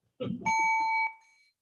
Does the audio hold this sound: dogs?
no